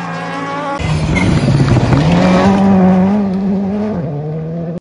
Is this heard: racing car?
yes